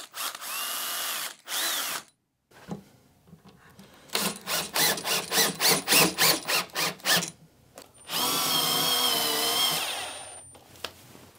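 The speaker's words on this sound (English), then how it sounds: "Now I can get this drilled, get some plugs in and get it screwed onto the wall." A power drill bores holes into a wall for mounting a wine glass shelf, a few short separate bursts and then a longer steady whirr, close and loud, with pauses of handling between.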